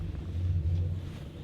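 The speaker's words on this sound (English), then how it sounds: "He hasn't heard it drive by with the exhaust" A 2013 Chevrolet Camaro SS with an aftermarket exhaust rumbles and revs briefly as it passes close by, a low throaty roar.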